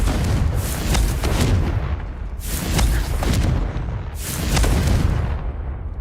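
Three loud, booming explosions from the Confringo blasting spell in the video game Hogwarts Legacy, each one bursting and then rumbling away before the next lands, spaced about two seconds apart.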